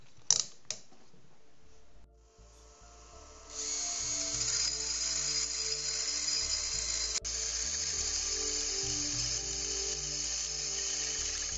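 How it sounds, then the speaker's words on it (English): A small power drill spinning a stainless steel trim nail chucked in it whirs up to a steady, high-pitched spin after a few clicks and handling noises, running continuously and close by. "Now let's chuck the nail into a drill."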